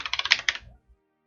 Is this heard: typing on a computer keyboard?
yes